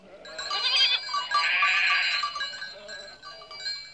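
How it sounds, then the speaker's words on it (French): A small goat bleats in an Alpine mountain setting, a close, drawn-out nasal cry that wavers in pitch, then a shorter second bleat, with no talking over it. "Si je ne fais pas erreur, voilà Pi, ta chèvre"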